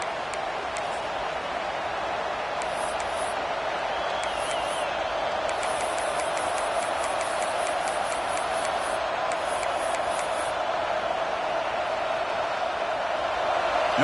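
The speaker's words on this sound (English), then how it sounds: "listen to this crowd noise. This stadium is vibrating." Dense, steady roar of a stadium crowd in the NCAA Football 26 video game during a college football playoff game against Clemson, holding at a constant loud level for the whole stretch with no voices on top.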